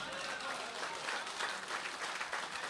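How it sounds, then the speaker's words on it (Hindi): An audience at a Hindi-Urdu poetry recital breaks into steady, dense applause with many hands clapping at once, loud and close, sustained throughout with no break. "इस मतले पर आपने तालियां कम बजाई हैं, एक बार फिर बजा दीजिए।"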